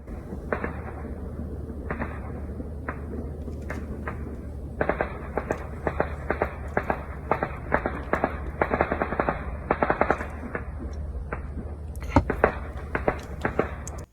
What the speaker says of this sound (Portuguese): as explosões à noite.